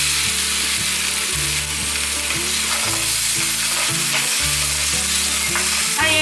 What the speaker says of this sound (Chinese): 大约略炒一下